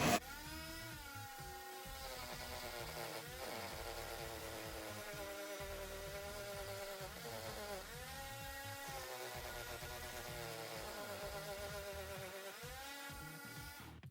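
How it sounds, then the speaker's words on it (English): A WEN rotary tool fitted with a small rotary drum bit sands away, giving a steady high-pitched motor whine that rises and dips in pitch as the drum bears down, running loud and close for the whole stretch with no talk. "I put a little rotary drum on there, just gonna sand, give you an idea of how that works."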